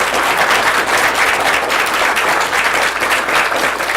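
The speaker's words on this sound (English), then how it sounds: "let's give them a round of applause for hard work" Sustained, fairly loud applause from the audience at a high school quiz competition, steady clapping that holds evenly throughout without talk.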